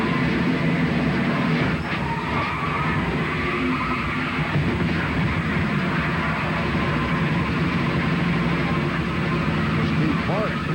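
A NASCAR race car engine roars from onboard during the Jack Link's 500, a continuous loud, dense drone with road and wind noise throughout.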